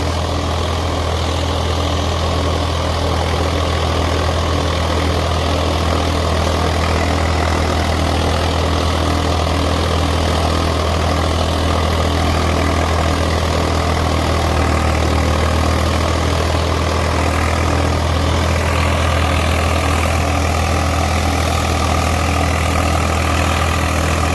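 A steady, low diesel tractor engine idles continuously, a deep rumble with a constant hum and no voices, close and even throughout.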